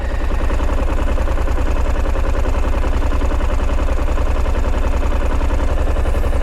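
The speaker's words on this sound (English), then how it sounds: "It's running on one cylinder." A 2023 KTM 890 Adventure parallel-twin motorcycle engine idles on only one cylinder with the throttle cracked slightly open, giving a close, steady, loud chugging pulse with uneven mechanical clatter throughout.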